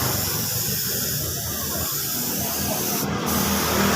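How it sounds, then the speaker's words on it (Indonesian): Continuous loud hiss of a spray gun laying clear coat onto a Honda Beat motorcycle body panel, steady and close throughout with no voices. "kita semprot clear seperti ini"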